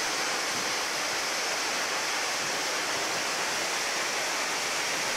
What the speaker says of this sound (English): This trail brought us to the Wainumi Waterfall.